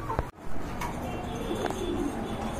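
Pair of red and white German Satin pigeons in a loft, soft cooing calls close by over a low background hum, a few short separate coos with a sharp thump early on.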